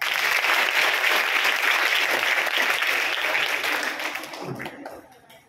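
Sustained loud applause from a crowd at a women's welfare organisation event, steady dense clapping that gradually tapers off toward the end.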